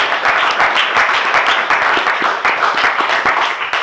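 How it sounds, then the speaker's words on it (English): An audience applauds after a talk on building a music city, a full, close burst of many hands clapping with a few sharper individual claps standing out, lasting a few seconds without speech. "You can applaud."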